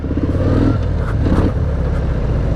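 A 2019 Harley-Davidson FXDR motorcycle on the road, a loud close engine roar with rumbling low tones and rising pitch as it accelerates, mixed with wind buffeting, no clear speech.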